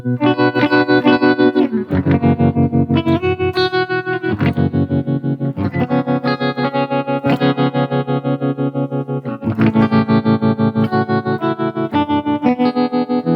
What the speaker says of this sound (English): Rickenbacker on a tremolo